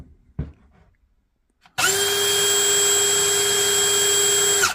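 Milwaukee Gen 4 cordless hammer drill starts after a quiet moment and a faint knock, then runs steadily and loudly at full speed with a strong, even whine for the rest of the stretch.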